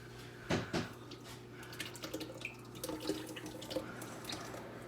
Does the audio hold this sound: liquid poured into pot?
yes